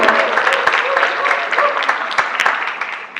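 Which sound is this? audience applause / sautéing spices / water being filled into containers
audience applause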